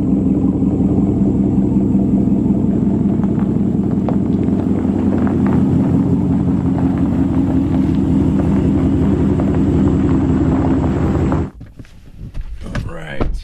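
A 2019 Ram Rebel pickup truck driving on the road after a modification, with a steady low engine and road drone that cuts off near the end, followed by brief clunks like a door and a voice.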